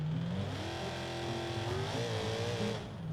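Race car launching hard in BeamNG.drive, a loud continuous engine roar rising in pitch as it revs and accelerates, with tire noise underneath, sustained for about three seconds.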